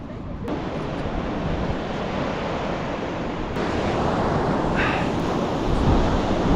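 Ocean waves in Kaliningrad wash and roll continuously, a broad surging hiss that swells slightly louder toward the end, with wind mixed in.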